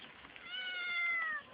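A cat meows with a drawn-out, rising then falling cry lasting about a second, at a picnic outdoors, fairly close and alone without talk.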